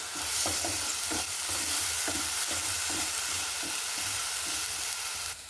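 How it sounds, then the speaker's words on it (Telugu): Ginger-garlic paste fries with onion and green chili in a steady, dense sizzle, accompanied by rhythmic scraping strokes of a spoon stirring the pan, close and fairly loud, with no voices heard. "ఇప్పుడు ఒక స్పూన్ అల్లం వెల్లిపాయ పేస్ట్ పచ్చివాసన పోయే వరకు వేయించుకోనండి"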